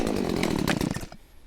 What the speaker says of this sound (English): Now I'm going to use the Stihl MS-180C. It's just a small little 16-inch blade chainsaw.